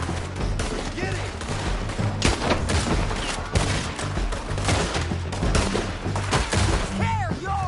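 Rapid bursts of gunfire and heavy battlefield shooting from a PS4 war game at a bridge, dense and continuous with layered explosions and effects, while voices shout over the combat.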